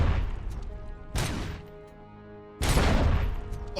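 Grenades explode in a video game: two loud, broad blasts about a second and a half apart, each trailing a rumbling roar, over constant noisy game background.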